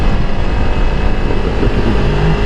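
A Honda CRF300L Rally motorcycle engine runs steadily at close range while the rider turns it around, a continuous low rumble mixed with wind buffeting.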